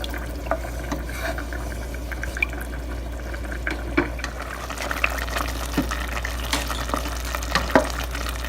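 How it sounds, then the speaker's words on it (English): Mutton pulao broth with rice is stirred in a pot, with a close bubbling, sloshing liquid sound and irregular scrapes and clinks of the spoon over a low steady hum. "I'll give it all a good mix."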